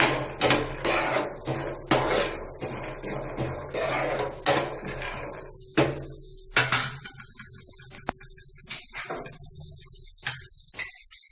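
A spoon stirs soaked chana with salt in a pot, producing a run of close clinks and scrapes against metal, busy at first and thinning to sparse knocks, with a faint hum behind.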